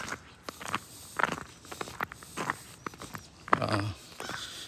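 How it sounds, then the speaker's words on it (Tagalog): Snow boots crunch over icy snow on an unsalted neighborhood road, a run of crisp, uneven close footsteps with one louder, longer crunch near the end. "Rinig mo yung tunog ng snow boots ko, parang crispy."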